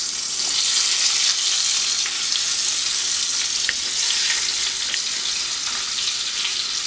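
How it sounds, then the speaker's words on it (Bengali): Eggs frying in hot oil for an egg curry, a close, even hiss of sizzling with faint pops and crackles that holds steady throughout, no voices. "এবার আমি ডিমগুলো একে একে ছেড়ে দিচ্ছি।"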